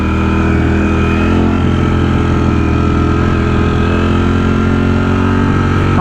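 A sport motorcycle engine roars loud and close as the bike powers up into a wheelie, a steady, dense drone that holds unbroken throughout with no voices.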